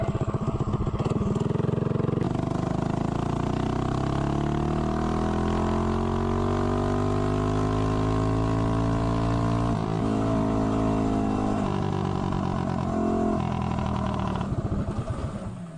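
A mini bike with a 212 engine and a 5.5 gear ratio accelerates hard from 0 to 30, its small engine droning loud and close as the revs climb steadily and hold.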